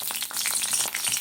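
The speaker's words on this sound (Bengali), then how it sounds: "তেলটা গরম হয়ে গেছে, এইবারে দেবো লঙ্কা দুটো" Two chillies drop into hot mustard oil and sizzle at once, a bright crackling hiss that stays fairly loud and steady through a brief moment, with no voices.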